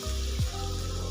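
Batata vadas slide into hot oil for vada pav: a brief splash and thump as they drop, then a steady broadband sizzle of frying that runs on close and continuous, with no talk.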